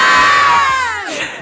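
Girls loudly shout the Jai Johar cheer together at a Chhattisgarhi village Olympics sports event. It is a brief, close, crowd-like burst of high voices that starts strong and fades.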